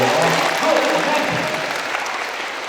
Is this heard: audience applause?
yes